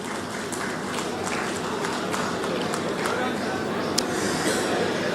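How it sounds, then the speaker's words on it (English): Broad, steady crowd applause rolls through an Andhra Pradesh government foundation-stone event for a badminton academy, with a dense, even wash of claps and one sharp peak near the end. "Can we have a round of applause for the Minister,"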